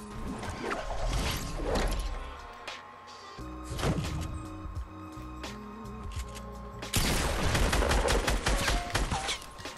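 Rapid bursts of gunfire in Fortnite Battle Royale, loud and close, with repeated volleys and heavy impacts over about ten seconds, no talking.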